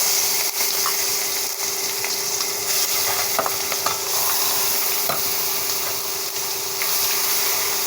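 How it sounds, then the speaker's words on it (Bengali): Shrimp frying lightly in a hot wok with turmeric and salt, giving a steady, loud sizzle and crackle that runs unbroken throughout with faint stirring clicks, no voices. "এখন চিংড়ি মাছটা এতে হালকা করে ভেজে নেব।"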